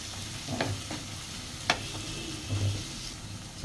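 Bay leaves with cinnamon are stirred in a frying pan, giving soft scraping strokes and a few sharp clinks of a utensil against the pan over a low, steady sizzle.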